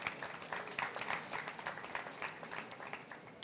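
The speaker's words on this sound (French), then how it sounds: "Et on peut les applaudir, merci." Audience applause for the speakers at a Sirha 2015 culinary trade-show conference stage, a dense, steady patter of many hands clapping throughout at moderate level.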